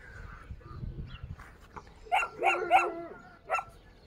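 Several short barks from a dog on a pigeon racing and flying loft in Galați, coming in a quick cluster of three and then one more after a pause, moderately near, over faint outdoor background.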